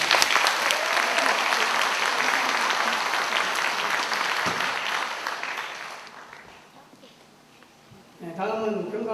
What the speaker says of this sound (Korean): 제2작전사령부 군악대 장병 여러분께 큰 박수 부탁드립니다